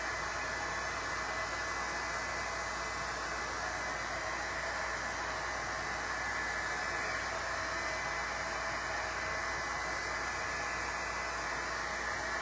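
A hair dryer blows steadily to dry paint on wooden blocks, a continuous loud rushing whoosh held without pause throughout and no voices.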